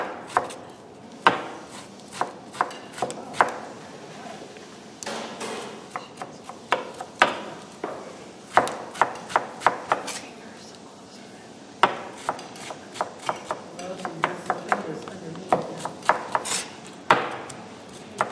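Knife chopping eggplant on a cutting board, crisp rapid taps in irregular bursts and pauses, close and clear, with occasional faint voices in the background.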